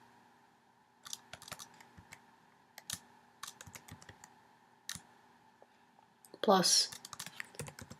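Quick, irregular clicks of keys on a computer keyboard during Python coding, close and fairly quiet, with a short louder flurry near the end and a voice speaking briefly.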